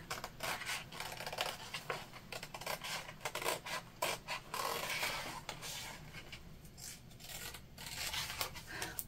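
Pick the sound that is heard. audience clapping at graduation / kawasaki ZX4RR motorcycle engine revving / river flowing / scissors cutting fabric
scissors cutting fabric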